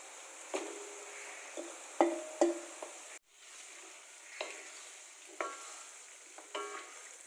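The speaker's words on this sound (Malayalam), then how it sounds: "നമുക്ക് ഇതിനകത്തേക്ക് നമ്മുടെ ചിക്കൻ ചേർത്ത് കൊടുക്കാം." Chicken pieces going into a simple chicken curry in a pan, with a steady low sizzle and several sharp scraping stirs and clinks spread through, fairly quiet and without talk.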